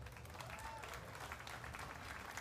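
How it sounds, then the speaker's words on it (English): Audience at a state fair FFA event applauds steadily throughout, a dense, even wash of clapping heard at moderate distance with no talk on top. "Let's give a round of applause for New Ulm."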